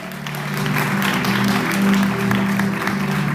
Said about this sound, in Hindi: और अपने लिए तो और जोर से ताली बजाओ।